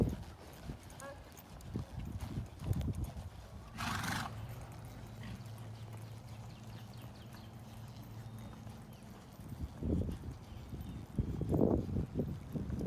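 Hooves of a cantering horse thud on the ground in rhythmic bursts, close and moderately loud, with a whinny and voices talking alongside.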